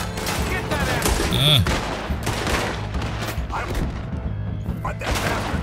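Gunfire in Red Dead Redemption 2 during a shootout, repeated sharp shots and bursts scattered across a busy, loud mix, with voices talking and shouting over them.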